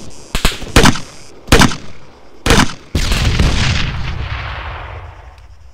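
Gunfire in the video game Arma 3, a co-op FIA assault mission: several loud, close, heavy gunshots in an uneven rhythm, then a sustained booming roar that slowly fades.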